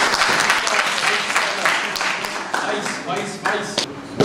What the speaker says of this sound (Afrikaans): klap hande.